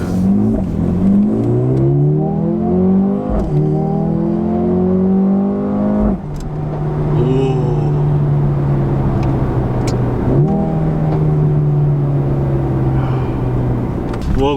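A Mercedes-AMG A35 engine revs hard under acceleration, pitch climbing in repeated sweeps broken by quick gear shifts, loud and close inside the car, with brief talk between pulls.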